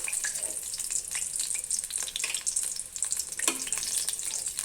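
Eggs fry in a pan with a steady crackling sizzle, punctuated by occasional sharper pops and spatter, close up with no talking.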